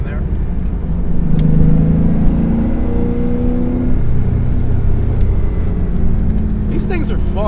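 A modified 1995 Pontiac Firebird Formula's engine pulls steadily under acceleration from about 2000 rpm, a loud, close interior drone with rising tones, while occupants talk over it.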